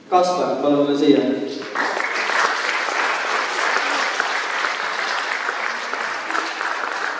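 A voice speaks briefly, then a crowd of parents and children bursts into steady, full applause that carries on to the end at a school graduation celebration in Rakke, Estonia.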